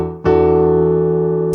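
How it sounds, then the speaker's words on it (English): A single piano chord, D over E with a low E in the bass, is struck once and left to ring steadily at a loud level, with the next chord just starting at the very end. "Then we have D over E, which sounds like this."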